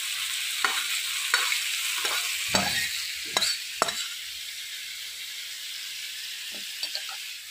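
Vegetables frying in a pan, a continuous hissing sizzle broken by several sharp scraping strokes of a spatula stirring, close and fairly loud, fading to a steady sizzle.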